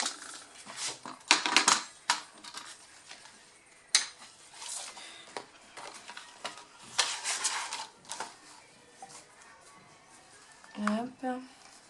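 Paper being creased into folds for a small square photo album, heard as dry, crisp scraping and crinkling bursts in uneven clusters, close by, with intermittent talking.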